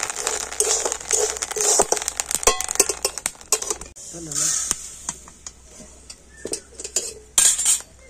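Rice puffs into muri while being stirred in a pan over a stove, without sand, giving busy crackling, scraping and clinking that is sometimes dense and sometimes sparse, with a faint voice heard briefly.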